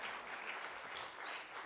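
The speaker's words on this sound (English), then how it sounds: "let's clap our hands again for Dr." Audience at a university UNESCO colloquium on initiation heritage in South Africa applauding a speaker, a steady wash of clapping at a low, fairly distant level throughout.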